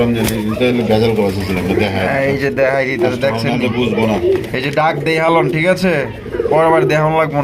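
Pigeons coo at a pigeon farm selling birds wholesale, with soft repeated throaty calls mixed under loud, continuous voices and music-like tones throughout.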